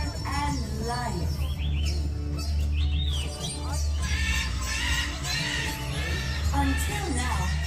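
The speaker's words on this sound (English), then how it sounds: "Susie, you're missing the bird." Birds chirp and call in quick bright bursts at the Flights of Wonder show in Disney's Animal Kingdom, heard over a steady murmur of crowd noise and voices.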